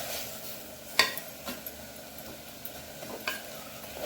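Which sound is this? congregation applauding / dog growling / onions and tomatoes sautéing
onions and tomatoes sautéing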